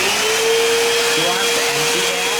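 A vacuum cleaner hooked up to a sander for refinishing a table drones steadily and loudly with a constant whine throughout, with faint pitch wobbles near the end.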